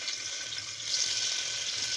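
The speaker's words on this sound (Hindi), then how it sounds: "अब हम इसी तेल में जो है हमारे पनीर को फ्राई करेंगे" Paneer frying in hot oil left over from onions for a mix-veg biryani, with a steady soft sizzle that grows slightly louder partway through, no talk.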